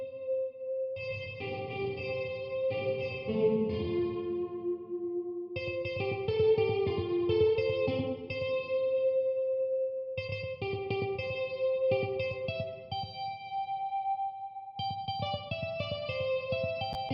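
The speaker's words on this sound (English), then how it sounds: "With reverb on electric guitar, I like to use any plate reverb." Electric guitar chords and melodic lines ring out through a lush plate reverb in a beat mix, each phrase trailing into a smooth shimmering wash, with no talking.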